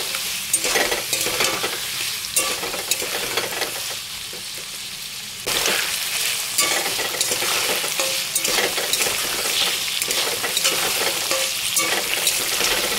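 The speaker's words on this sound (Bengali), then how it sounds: "এবার আমি সমস্ত ছোলাগুলো দিয়ে দিলাম। এই ছোলাগুলোকে আমি একটু ভালো করেই ভেজে নেব।" Chickpeas fry in a pan for a vegetarian chickpea and potato curry, giving a steady close sizzle with repeated stirring scrapes; the sizzle dips briefly, then returns louder and stays constant.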